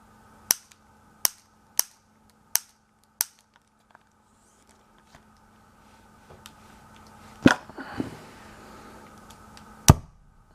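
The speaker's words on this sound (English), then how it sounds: "for this test I added a little more gas for more power. Here we go, on the right, firing in 3, 2," A homemade gas-powered BB sniper rifle, overcharged with extra gas, goes off as one loud sharp bang near the end, after several crisp clicks and some rustling handling noise at close range.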